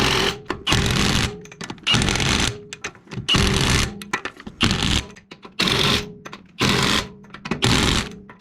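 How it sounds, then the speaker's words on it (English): An impact wrench hammers the wheel lug nuts on an Audi A4 Quattro after a front brake and rotor job, in about seven loud, close rattling bursts separated by short pauses. "I'm going to go back over them now with the Ugga Dugga"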